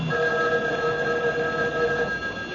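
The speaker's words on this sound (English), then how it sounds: "Answer it, Alice." A telephone rings in a radio drama, a steady electronic ring running for about two seconds over a constant background hiss, with no talking.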